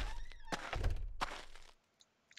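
Doors open in a multiplayer raiding video game, with several dull thunks and knocks in quick succession over about two seconds before the sound drops away to near silence with a couple of faint ticks.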